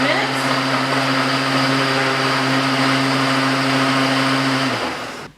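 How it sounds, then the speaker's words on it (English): A blender whirs steadily at high speed while mixing a smoothie, a loud, close, continuous motor drone that winds down and stops at the end. "We just put it here on the blender, or you might have a NutriBullet or whatever it might be. I just mix that up"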